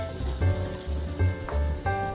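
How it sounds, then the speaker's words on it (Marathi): Red chili powder sautéing in hot oil gives a steady close sizzle with soft bubbling surges every half second or so, no voices present. "हे देखील थोडंसं तेलामध्ये परतून घेऊया."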